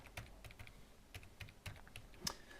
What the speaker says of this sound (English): So let's type in earrings